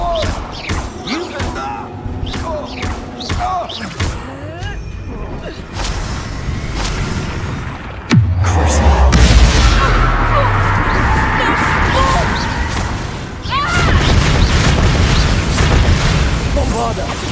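Reducto blasting spells explode in Hogwarts Legacy, a heavy booming impact halfway through followed by sustained rumbling blasts and whooshes, with a character shouting in the middle of the combat.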